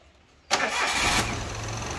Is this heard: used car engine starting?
yes